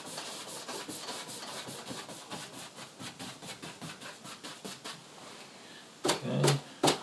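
Pencil or pastel crisscross strokes scratch across paper while shading a coastal landscape, a steady run of soft, quick rubbing strokes at close range, then a few louder, heavier scrapes near the end.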